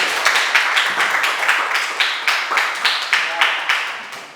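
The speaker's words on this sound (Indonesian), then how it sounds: "tepuk tangan buat Mas" A classroom audience at an Islamic religious education teaching-practice lesson claps together in a steady, rhythmic beat of roughly two claps per second. The clapping is moderately loud and continues throughout.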